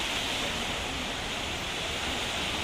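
Strong floodwater flows across a damaged asphalt road in Al Khobar after rain, making a dense, continuous rushing hiss like a stream, steady and fairly close with no break.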